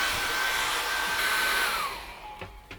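A hair dryer blows steadily to dry fresh acrylic paint on a sunflower painting, a loud continuous whooshing roar with a faint whine that drops off near the end as it switches off.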